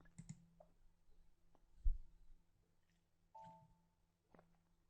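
A computer mouse clicks on a software button while creating an SAP ABAP program: a few faint, sharp clicks spaced apart in an otherwise quiet room.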